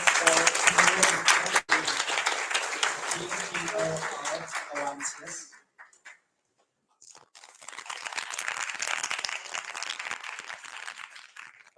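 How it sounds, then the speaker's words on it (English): An audience at a Rust programming meetup in Bangkok applauds loudly, a dense patter of clapping that fades, drops out briefly, then returns; a voice speaks briefly at the start. "All right, big round of applause"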